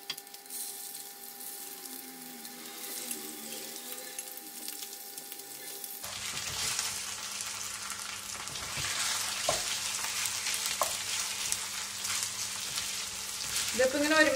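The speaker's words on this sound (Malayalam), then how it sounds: "നമ്മൾ ഡീപ് ഫ്രൈ അല്ലത് ജസ്റ്റ് ഷാലോ ഫ്രൈ ആണ് ചെയ്തെടുക്കുന്നത്" Chicken pieces shallow fry in oil with a steady, even sizzle that runs the whole time at moderate volume, and a faint voice is briefly present early on.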